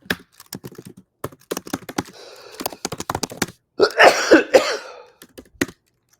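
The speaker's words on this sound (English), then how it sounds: "I'm clearly coughing too much" Several short coughs from one person, close and fairly loud, mixed with brisk computer keyboard typing clicks in a quiet room.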